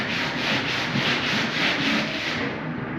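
Wet sanding of spray paint on a 1971 Datsun 240Z panel makes a close, rhythmic rasp of repeated back-and-forth strokes, steady and unbroken for about three seconds.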